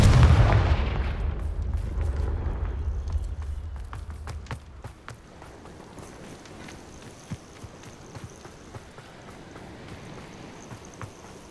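A Confringo fire spell from the Hogwarts Legacy video game lands as a loud, deep blast that rumbles and fades over a few seconds, leaving scattered crackles and small clicks behind.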